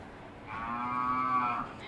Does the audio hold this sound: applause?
no